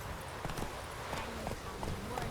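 Hooves of the horse Roach in The Witcher 3, a steady clip-clop of footfalls over a noisy game background.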